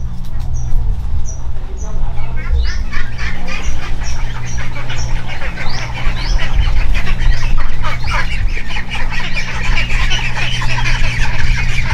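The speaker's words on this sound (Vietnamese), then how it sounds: "Đi ra thăm bầy vịt các bạn ơi." A flock of ducks on a Vietnamese farm quacks and chatters, a loud, dense and continuous clamor of many birds close by.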